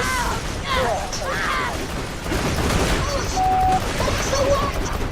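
Turrets firing in a video game, rapid mechanical bursts and pops mixed with game effects and a busy background, with people talking over it.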